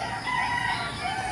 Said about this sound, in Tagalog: Kaya punong-puno ng manok dito.